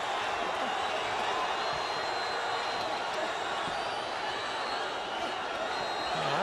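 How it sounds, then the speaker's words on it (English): A boxing arena crowd in Savannah roars and cheers in a constant dense wall of noise during a 91kg amateur bout, with a commentator talking over it. "The Savannah crowd roaring SAVON on."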